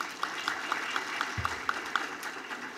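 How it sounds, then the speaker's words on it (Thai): An audience at a Thai local-government seminar on the 2017 constitution claps fairly faintly, with individual hand claps standing out at a quick, regular pace, plus a brief low thump midway. "ปรบมือให้ท่านอีกครั้งหนึ่งนะครับ"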